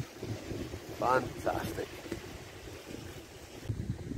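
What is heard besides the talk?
waves lapping against the shore on a Scottish beach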